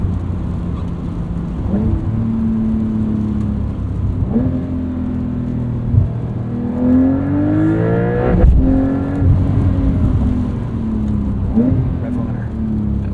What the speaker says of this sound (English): that was just hitting rev limiter